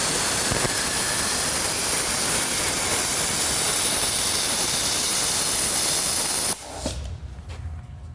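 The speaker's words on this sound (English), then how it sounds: "In the garage, there might be an instance where you want to gouge out an old weld without ruining your base material." A Powermax 30 plasma cutter gouging steel in a garage gives a loud, steady roaring hiss for about six seconds, then cuts off abruptly, leaving quieter background noise and a few faint knocks.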